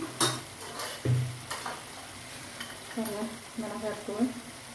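A masala mixture for chicken gravy is stirred in a pan, with a soft sizzle of frying under scraping strokes and a couple of louder knocks of the spoon, and a voice faintly in the background.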